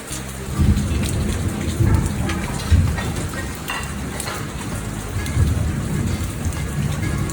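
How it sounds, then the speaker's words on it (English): Rain falling steadily in Jamaica, a loud dense patter of drops on surfaces with low rumbling bursts mixed in, close and continuous with no talking. "Raindrops."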